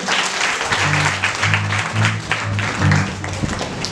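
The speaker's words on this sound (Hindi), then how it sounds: "जोर से परमेश्वर के लिए तालियां बजाएंगे।" A church congregation claps loudly for God during a Hindi sermon, the dense applause running throughout with a voice sounding through it.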